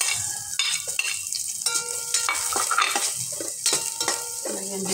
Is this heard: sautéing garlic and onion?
yes